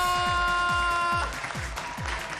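Studio audience applause on an Indonesian TV comedy show, a broad wash of clapping that swells in after a stretch of music with a steady thumping beat and carries on to the end.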